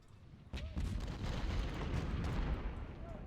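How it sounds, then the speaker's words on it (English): Civil War artillery fire in the video game Ultimate General: Civil War, with deep booming cannon shots that start abruptly and roll on as a sustained rumbling barrage, some blasts sharper than others. "They've got a lot of artillery."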